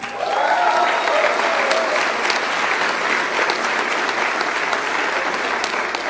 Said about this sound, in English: You're gonna get to clap for Jason in 20 seconds